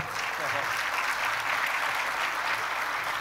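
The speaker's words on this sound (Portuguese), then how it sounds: "Vamos aplaudi-lo." A crowd applauds steadily, a dense wash of clapping that holds at even loudness throughout.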